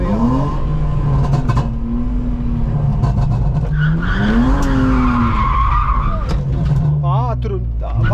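A BMW E46 drifting, its engine revving up and down in sweeping pitch swings while the tyres squeal and skid loudly and continuously, close by, with brief bursts of talk among the noise.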